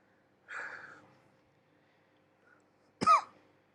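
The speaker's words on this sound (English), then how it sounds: "See, I got a cough." Two separate coughs ring out in a quiet room, the first a softer, rough hack and the second a sharper, louder bark a few seconds later.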